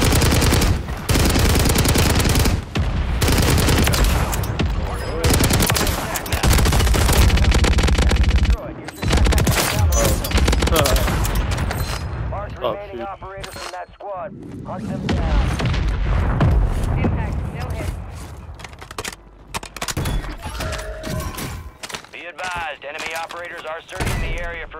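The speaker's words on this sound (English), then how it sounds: "Mortar strike on the way." Mortar strike explosions and heavy gunfire in Call of Duty Warzone on Rebirth Island, a loud, dense barrage of booms and rapid shots that stops abruptly, then returns in scattered bursts under in-game radio voices.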